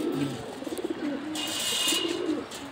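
A male racing pigeon coos softly in a few low, throaty pulses, close by, with a brighter rustle or flutter partway through and no voices.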